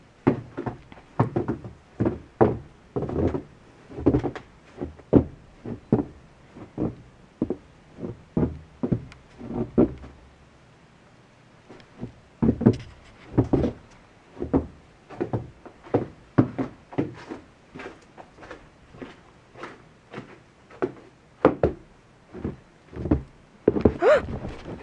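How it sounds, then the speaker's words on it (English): Steady soft patter of irregular taps and thuds as wet snow clumps drop onto trees during an October snowstorm, continuing quietly throughout with a brief lull partway. "You can hear the snow just hitting the trees."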